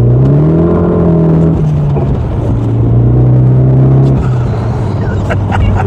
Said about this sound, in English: I've just got to do another takeoff down here because it's quite addictive.